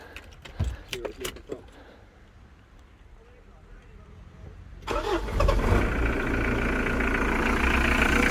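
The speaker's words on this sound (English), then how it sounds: "We're just letting her tick over with the coolant at the moment" Keys jangle first, then a Mitsubishi Warrior pickup truck with a coolant leak starts and idles steadily up close with cooling-system cleaner in the coolant, a loud continuous rumble filling the last few seconds.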